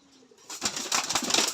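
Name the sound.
racing pigeon being released, wings flapping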